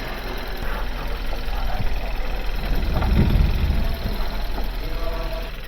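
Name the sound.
Kia Soul car engine running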